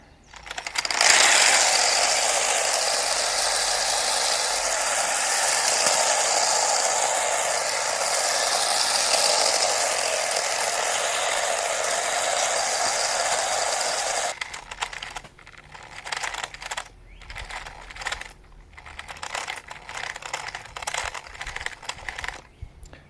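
A toy speed tank with brushless 2212 motors runs at full throttle. A loud, steady high whir lasts over ten seconds, then gives way to choppy, rattling mechanical clatter as it moves.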